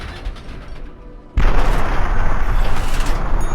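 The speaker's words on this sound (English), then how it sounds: "Look at that explosion." Fat Man mini-nuke detonating in Fallout 3: a sudden loud deep boom after a quieter stretch, followed by a sustained roaring rumble that fills the rest of the moment, with no voices over it.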